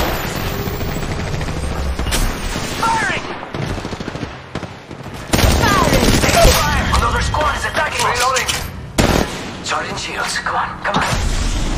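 Rapid bursts of gunfire in the Apex Legends Mobile battle royale game, dense and loud, with repeated volleys and booms over steady game sounds, and a voice talking throughout.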